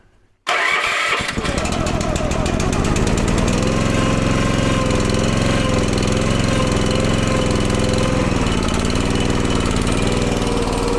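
A small engine, readied for a day of firewood cutting, catches after a brief quiet start, revs briefly, then settles into a loud, steady idle that wavers slightly, close up.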